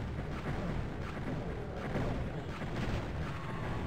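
Gunfire and impacts against golem enemies in the video game Heretic, a dense, continuous stream of booming weapon blasts filling the whole stretch at a steady, loud level with no talk.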